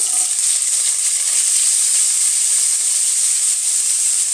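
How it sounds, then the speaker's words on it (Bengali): Continuous loud sizzle of chopped carrots, beans and potato frying in a hot pan, a steady bright hiss with no talking. "এই তিনটে জিনিস একসাথে একটু ফ্রাই করে নেবো হালকা"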